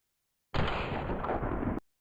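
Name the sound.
FN Model 1905 pistol firing in the game World of Guns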